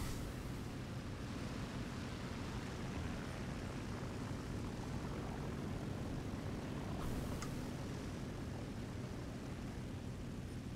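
A video game plane's engine drones steadily for the whole stretch, a constant broad roar with no letup and no talk over it.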